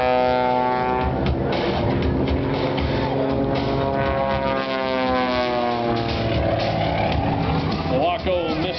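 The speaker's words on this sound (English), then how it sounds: "The Waco Mystery Machine, definitely an amazing aircraft." Waco Mystery Machine biplane performing aerobatics at the 2010 Sound of Speed Airshow: a steady, loud engine drone that rises and falls in pitch throughout, with an announcer talking over it.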